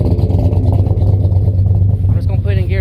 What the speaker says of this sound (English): Got a really bad exhaust leak.